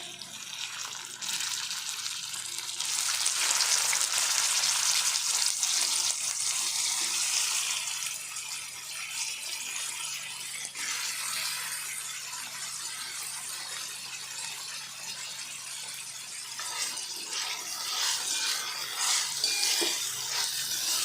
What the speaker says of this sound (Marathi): वांग आणि बटाटा आपल्याला चांगला परतून घ्यायचं आहे तेलामध्ये